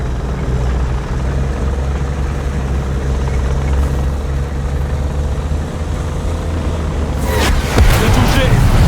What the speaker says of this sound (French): Ah, et bah comme vous voyez, un hélico.